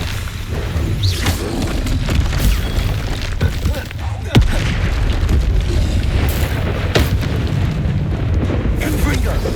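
Confringo explosive spell in Hogwarts Legacy: a deep booming blast with a sharp onset, followed by rumbling combat effects and other thuds, while a voice speaks over the fighting.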